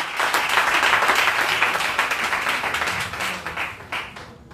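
Church congregation applauding for Jesus during a French-language sermon, a dense burst of many hands clapping together, loud and steady before tapering into a few scattered claps at the end.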